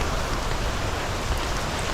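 Light rain falls in a steady, even hiss on a roof, close and continuous, with light wind.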